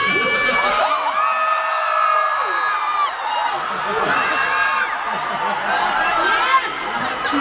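Large audience at a live variety show concert in Vancouver, Canada, shouting, screaming and cheering in a sustained roar, with a host's voice coming through over the crowd.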